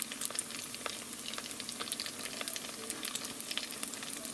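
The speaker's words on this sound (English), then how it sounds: "now I'm going to put a few in here, and we're going to fry these up a few minutes on each side" Small shrimp egg rolls frying in hot oil in a pan, giving a steady, dense crackle and sizzle of popping oil that stays close and even throughout, with no voices.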